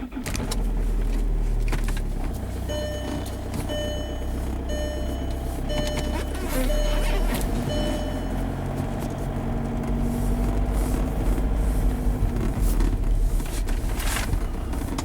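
A 2005 Volkswagen Jetta with an 09A automatic transmission accelerating from a stop, its engine droning steadily under cabin noise, with a beeping chime pattern partway through.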